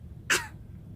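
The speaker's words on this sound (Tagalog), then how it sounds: "Ubo. Kusga." One short, sharp human cough, close and fairly loud, bursts out once against a low background hum.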